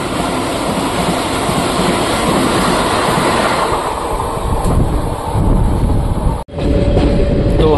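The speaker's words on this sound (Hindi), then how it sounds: "ये देखो फुल रफ्तार में वंदे भारत आ रही है जो हमें क्रॉस करेगी।" A Vande Bharat express train rushes past at full speed, close and loud, a continuous roaring rumble of wheels and wind that fills the whole stretch before a sudden brief dropout and return of the rushing noise.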